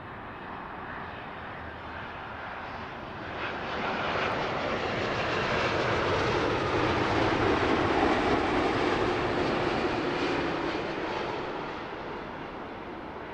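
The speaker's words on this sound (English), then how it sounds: "It's amazing when you're viewing the touchdown from behind the aircraft" An airliner touches down on runway 09 left at London Heathrow, its jet roar steady at first, then swelling louder and nearer through the middle before easing off again, heard from behind the aircraft with no talking.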